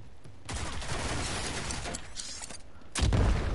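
A rocket launcher fires in the video game Rogue Company amid a dense barrage of combat noise, with a sustained rush of blasts and a heavy, booming impact near the end.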